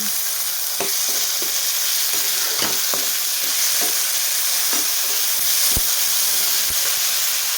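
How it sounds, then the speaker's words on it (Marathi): Tomatoes tossed into a pan of sautéed onions for chana masala, sizzling loudly and continuously up close, with irregular spoon scrapes and knocks against the pan throughout; no talking. "आता आपण टाकू त्याच्यामध्ये टोमॅटो टमाटर छान परतून घ्यायचा"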